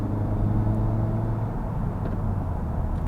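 Honda Civic Type R driving on the road, a steady low engine drone and rumble from inside the cabin, loud and continuous with a slight change in tone partway through as it shifts.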